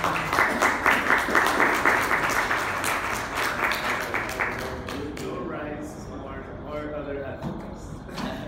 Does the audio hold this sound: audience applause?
yes